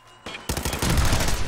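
Rapid gunfire erupts in a Fallout 4 shootout, a dense burst of overlapping shots that starts abruptly and keeps going, loud and close.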